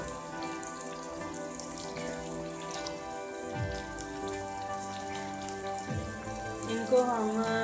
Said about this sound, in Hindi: इनको हम ऑयल में यानी कि थोड़ा सा फ्राई करेंगे टमाटरों को